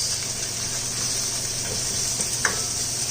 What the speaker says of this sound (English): Now you kind of want this to just sweat at a high heat.